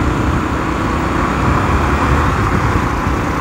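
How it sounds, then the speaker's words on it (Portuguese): XRE motorcycle riding through morning traffic, with a steady, loud roar of engine, wind and road noise and no break or change throughout. "Ah, como é bom andar de moto"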